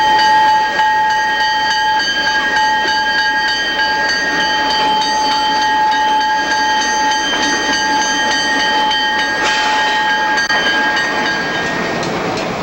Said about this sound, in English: Once the highball is given, Extra 944 East departs Bishop's Falls and crosses the Exploits River.